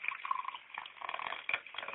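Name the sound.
pouring orange juice mixture into glass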